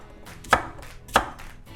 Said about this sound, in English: We'll start by roughly cut the vegetables